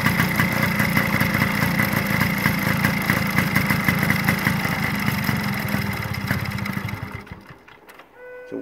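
A 1950 Bown Auto Roadster 98cc motorcycle engine runs with a steady, crisp buzzing rhythm close by, loud and unbroken for most of the stretch before cutting out near the end.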